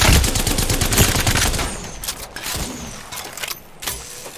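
Rapid bursts of gunfire aimed at the player in the video game Apex Legends: a dense volley of close, loud shots up front, then scattered, weaker shots trailing off.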